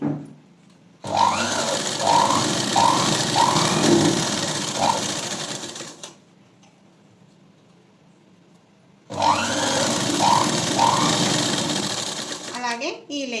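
Electric sewing machine running in two bursts of fast, steady stitching through three layers of a blouse shape belt, with a quiet pause between runs and a brief rattle at the end.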